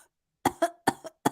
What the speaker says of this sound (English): I have to cough 1 second.